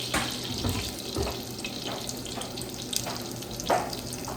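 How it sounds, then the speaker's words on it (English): Hot water pouring from a kitchen tap into a pan while preparing Jamaican oxtail, a steady close splashing stream with a few clinks of cookware, no talking. "So I'm adding the hot water to this pan."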